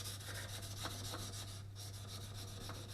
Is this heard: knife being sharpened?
yes